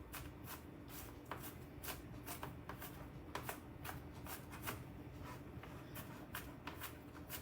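Sharp knife chopping onion on a cutting board, quick regular taps repeating throughout, close and fairly quiet with no talking.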